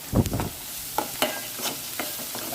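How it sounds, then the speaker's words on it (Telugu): Onions frying with salt in a pan for an okra and egg pulusu, close sizzling broken by several sharp scrapes and stirs of a spatula, no voices. "ఆనియన్స్ బాగా వేయించుకోవాలండి"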